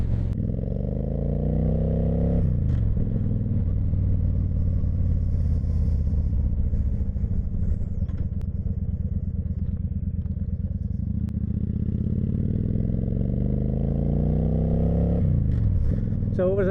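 A Honda VT1100 Shadow Ace motorcycle engine runs steadily and loudly up close, with a low rumbling idle that rises in revs near the start and end.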